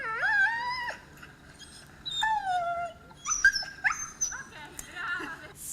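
A dog during a behaviour test whimpers and cries in several high, wavering whines and yelps, close and clear, with short pauses between bursts and faint background noise.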